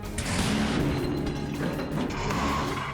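Test firing of an Admiral Gorshkov-class frigate's air defense system at sea, heard as a dense, continuous roar of booming, thudding blasts with no talk.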